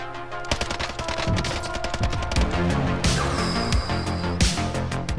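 A FiNN light machine gun fires in Call of Duty: Warzone, loud rapid bursts of automatic gunfire with short pauses between volleys, continuous game ambience beneath.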